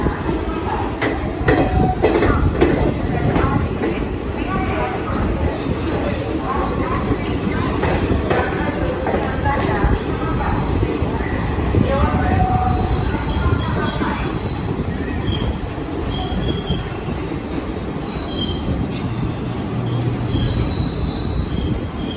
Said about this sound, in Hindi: सोलह 1600 किलोमीटर का डिस्टेंस कवर करने के बाद हमारी ट्रेन पहुंच गई है अपने आखिरी हॉल्ट